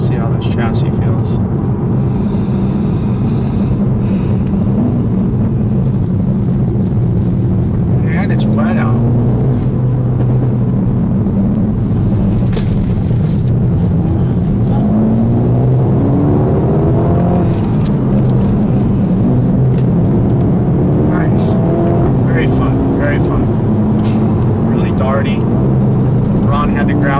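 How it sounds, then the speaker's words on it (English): A 2020 Mercedes-AMG CLA 35 engine revs up under load on a test drive, the exhaust cracking as it accelerates. Steady road and engine noise runs throughout, with a voice talking over it. "That was a nice crack we got out of the exhaust there."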